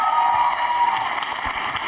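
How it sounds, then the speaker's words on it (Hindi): Audience at a college quiz show applauding and cheering a contestant, a short burst of crowd clapping with raised voices mixed in. "जोरदार तालियां, तालियां जोरों से बजाइए"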